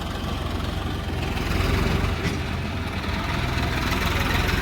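A tractor engine idles and runs steadily at close range in a field during laser land levelling, a continuous low throbbing rumble with no pauses.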